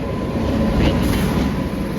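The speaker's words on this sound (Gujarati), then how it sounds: "જોઈ લો સામેથી ટ્રેન આવી રહી છે." An Indian Railways train with AC coaches pulls into a station in Rajasthan, a loud, close, continuous rumble of wheels and carriages that stays steady throughout.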